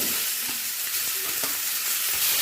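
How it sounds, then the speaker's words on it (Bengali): Boiled jackfruit frying with potatoes in a pan, a steady dense sizzle with faint scraping of stirring, close and continuous with no voices. "এঁচোড়টাও আলুর সাথে এক মিনিট ভেজে নেব"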